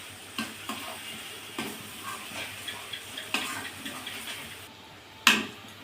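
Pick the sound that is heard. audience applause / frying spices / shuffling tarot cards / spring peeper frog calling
frying spices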